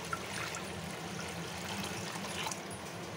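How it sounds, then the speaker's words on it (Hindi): Two cups of water being poured into a bowl make a steady, close splashing trickle that runs without pause for a few seconds, with no one talking over it. "इसमें हम 2 कप जितना पानी ऐड करेंगे।"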